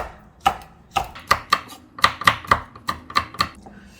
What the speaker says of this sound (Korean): 고추도 그냥 이렇게 동글동글하게 얇게 썰어주세요